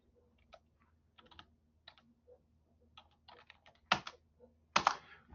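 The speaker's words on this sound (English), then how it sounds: "It would help if I'm typing something in there." A password being typed on a computer keyboard, with scattered quiet key taps that build to a few louder, sharper clacks near the end and no talk.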